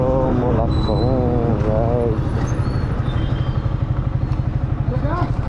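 A motorcycle engine idling with a fast, even low thrum throughout, under a voice speaking close to the mic.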